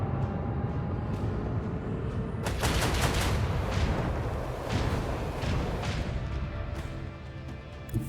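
Gunfire in the video game Warhammer 40K Rogue Trader: rapid crackling bursts and booming shots pile up over a dense, constant battle din, loudest midway and then easing off.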